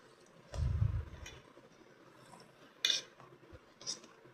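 A mustard-and-pickle mixture being stirred in a pot, heard as a soft scrape and thump followed by sparse metallic clinks and taps of a utensil against the vessel, fairly quiet and close.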